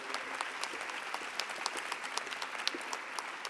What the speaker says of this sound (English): Let's give them one big more round of applause,